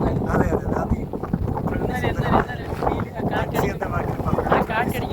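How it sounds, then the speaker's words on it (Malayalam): Strong wind at the Ponmudi hilltop buffets and roars across the microphone in gusty bursts, blowing steadily beneath people talking close by. "ഇതൊക്കെ നാച്ചുറൽ, പ്രകൃതി രമണീയമായ കാറ്റാണ്."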